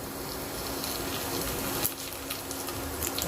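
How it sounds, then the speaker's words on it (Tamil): Mustard seeds sizzle and crackle in hot oil in a home kitchen, a steady close frying hiss with scattered small pops and a brief louder spit midway, no talking. "இதுக்கு கடுகு போட போகிறோம். எண்ணெய் கொதிச்சுது."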